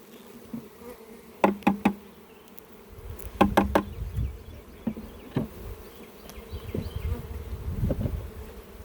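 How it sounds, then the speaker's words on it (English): Honey bees from a package being placed into a hive buzz in short bursts close by, their hum rising and fading irregularly, with a few sharp knocks and clicks in between. "Oh, I got some bees in there."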